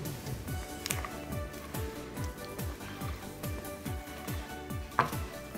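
A ladle stirs thick crêpe batter thinned with milk, working around the bowl's edges: a steady run of regular scraping, sloshing strokes, roughly two per second, close and moderately loud, with no talk over it.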